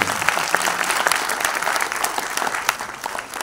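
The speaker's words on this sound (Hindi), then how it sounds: "फिर ताली क्यों नहीं बजी तुम्हारी?" Audience at a national integration camp event clapping, a continuous dense patter of many hands at moderate distance, steady throughout with no voices over it.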